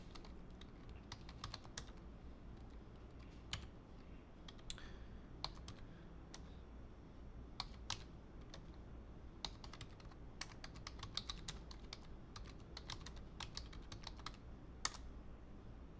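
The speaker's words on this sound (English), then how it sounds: "Typing your password," Irregular bursts of computer keyboard typing, crisp clicking keystrokes close to the microphone as a password is entered, over a steady low background hum with no voices.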